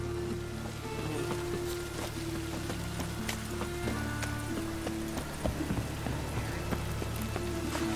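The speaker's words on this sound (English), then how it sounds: "Looks like rain." Rain falls in The Witcher 3 video game as a steady patter, with scattered hoof-like clops and low sustained tones beneath it, and no talking.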